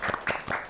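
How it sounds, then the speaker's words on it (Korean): An audience at a Korean disability-rights panel forum gives a brief burst of applause, with a few distinct claps in quick succession. "박수로 환영해 주세요."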